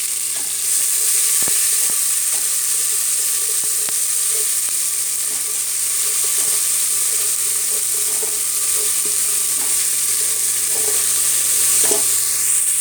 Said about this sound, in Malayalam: ഇനി അതിലേക്ക് ആവശ്യമായിട്ടുള്ള ഇഞ്ചി വെളുത്തുള്ളി പേസ്റ്റാണ് ചേർക്കുന്നത് അതൊന്ന് മൂപ്പിച്ചെടുക്കാം